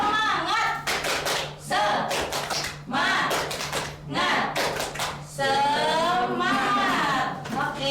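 A classroom of students performs a rhythmic spirit clap during a microteaching lesson, a loud run of sharp, patterned hand claps mixed with chanted voices, close and filling the whole passage.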